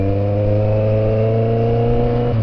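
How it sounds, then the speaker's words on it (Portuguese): Kawasaki Z750 motorcycle engine braking downhill in gear, heard as a loud, steady drone that holds close and even for a couple of seconds, then dips slightly near the end. "Tô descendo freando só no motor"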